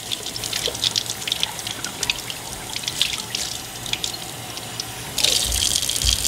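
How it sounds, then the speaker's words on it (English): Warm tap water running over an etched wine glass with vinyl decal at a sink, a close splashing trickle with drips and rubbing, growing into a stronger gush near the end. "It's just taking warm water and just rubbing it off before I take the vinyl off."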